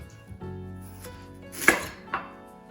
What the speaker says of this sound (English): Just cut it in chunks